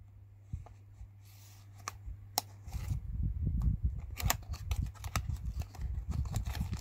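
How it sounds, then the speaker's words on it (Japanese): A Tomica Premium Subaru Impreza 22B-STi Version toy car package is opened up close, with light crinkling, tapping and sharp clicks of cardboard and plastic over a low steady hum. "それでは開封していきます。"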